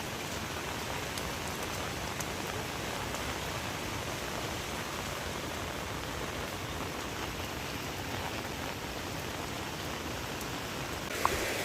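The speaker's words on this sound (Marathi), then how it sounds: "पाऊस देखील अजून काय थांबला नाही, भरपूर पडतो" Heavy monsoon rain pours down steadily over a flooded Konkan village near a swollen river, a dense, even hiss that stays constant throughout with no voices.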